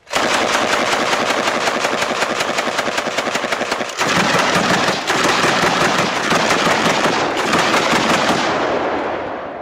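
A USAS-12 automatic shotgun firing FRAG-12 explosive rounds in long, rapid, loud strings of blasts that run almost without pause, with a short break partway through and a ringing tail as the firing stops.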